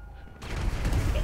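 Large explosion in the video game GTA 5: a sudden loud burst kicks in after a short quiet stretch and then rumbles on as dense low crackling and booming to the end.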